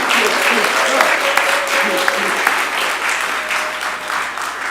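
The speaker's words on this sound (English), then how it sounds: "No, applaud her. Do it." Warm applause from those gathered at a celebration of life memorial, a brief steady round of clapping with a few sharper claps and a faint tone running beneath it.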